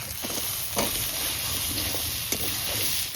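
Crab sizzling in a hot pan with spices as cut potatoes go in, a constant frying hiss with occasional spatula scrapes and knocks.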